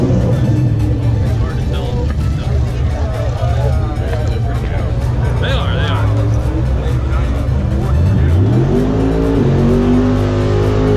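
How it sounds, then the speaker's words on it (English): Car driving past with tires squealing, a loud engine roar with a rising whine and tire screech near the end, heard close up under people talking. "There's Jimbo's car."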